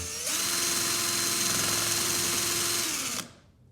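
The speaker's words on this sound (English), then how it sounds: "So here's the drill. You just want to go slow, carefully." An electric drill whines steadily at high speed through wood for about three seconds, close up, then spins down and stops.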